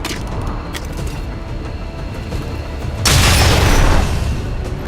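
A bomb planted on an Advent cannon detonates in XCOM 2: War of the Chosen, a sudden loud, broad blast that rumbles for about a second over steady battlefield ambience before fading.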